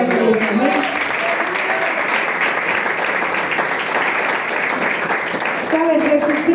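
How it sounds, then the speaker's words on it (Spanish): A Pentecostal congregation in a church in Barquisimeto, Venezuela, breaks into loud, sustained applause that fills the room, with voices calling out above the clapping. "Dale fuerte aplauso a Cristo."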